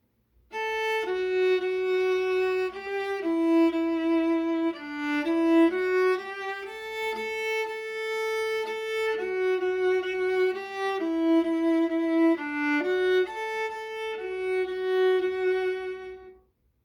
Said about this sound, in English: Lightly Row is one of the first songs I ever learned on the viola